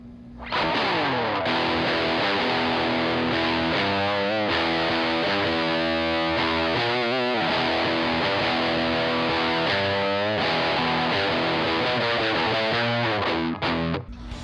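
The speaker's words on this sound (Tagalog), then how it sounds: "ang gamit ko talagang drive doon is Arat Distortion pedal and yung UAFX Rubico na AC30 din" Electric guitar played through an Arat distortion pedal into a UAFX Ruby AC30 amp emulation, a continuous gritty, fuzzy stream of chords and riffs, loud and steady throughout with punchy attacks and no talking.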